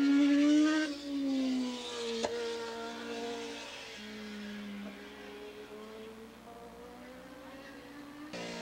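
Formula 1 class racing motorcycles at Willow Springs International Raceway in 1986 whine past, one loud engine note falling away as it passes, then fainter engines droning and shifting pitch at a distance until a sharp cut near the end.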